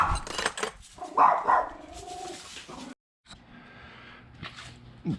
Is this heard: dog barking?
yes